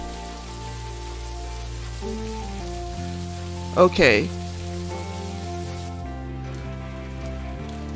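Steady rain patters on surfaces in Necrobarista, a soft continuous hiss under quiet background music, with a single short spoken word near the middle.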